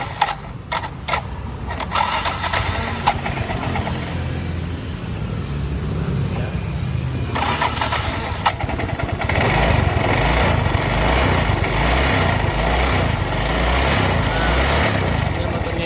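A Yamaha Mio M3 scooter engine sputters through starting attempts, then runs roughly with an uneven, stuttering, high-pitched putter that grows louder and steadier toward the end, with no clear talk over it.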